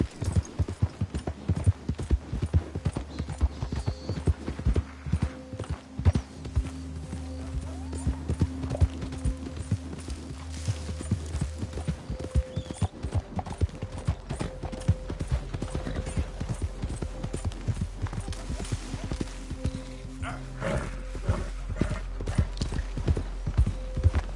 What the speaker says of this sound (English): You got fine horse.